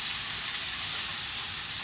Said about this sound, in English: so stir frying it right here